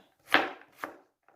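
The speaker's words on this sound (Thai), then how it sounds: "เราจะหั่นเป็นชิ้นเล็กๆ แบบนี้ค่ะ" Two sharp knife chops through green beans on a cutting board, close and crisp, followed by a faint third tap; no talking.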